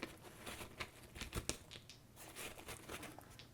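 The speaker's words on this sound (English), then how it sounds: "You can hear the bag shuffling and stones being dropped in." Stones dropped into an old camera bag as a made sound effect, a dry jumble of crinkling rustles and small clatters, with one sharper knock near the middle and scattered taps throughout, close and fairly quiet.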